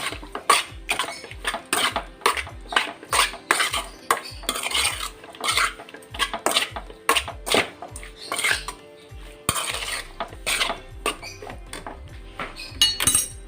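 A spoon scrapes and clacks against a metal pot or bowl as spices are worked into chicken pieces, a steady run of rhythmic clinks and stirring scrapes, close and fairly loud.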